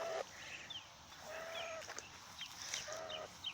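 A pet goose foraging and splashing in a puddle gives a few short honking calls spaced about a second apart, fairly close over quiet outdoor background, with no talk.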